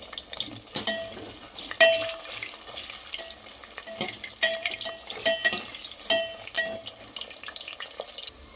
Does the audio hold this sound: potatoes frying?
yes